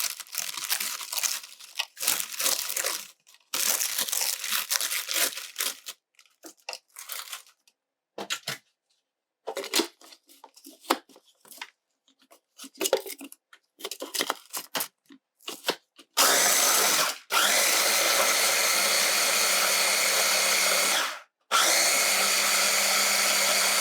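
Food processor crushing graham crackers, a loud continuous grinding whir broken by short pauses and rattling bursts in the first half, then a steady sustained run near the end.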